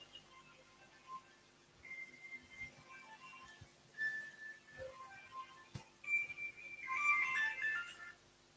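A phone ringtone plays as a thin melodic tone pattern, repeating and growing busier and louder toward the end, over a quiet background with no talk.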